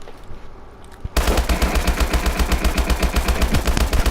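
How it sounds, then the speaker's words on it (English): An HBRa3 assault rifle in Call of Duty Advanced Warfare opens up after a second of quiet, letting off a long, loud burst of rapid, evenly spaced automatic shots that continues steadily to the end. "here's the normal HBRa3 recoil"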